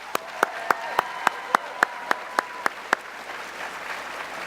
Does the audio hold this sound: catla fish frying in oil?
no